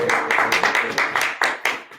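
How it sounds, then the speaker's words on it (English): An audience applauds a performer at a live show on mental health and art therapy, a few close hands clapping in a quick, uneven rhythm with sharp, distinct claps throughout. "Let's give him a hand of applause for that."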